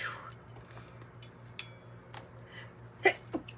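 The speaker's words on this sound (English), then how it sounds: "I knew I had to sneeze" A sudden sneeze bursts out near the end, loud and close, over a quiet room with faint clinks and a low steady hum.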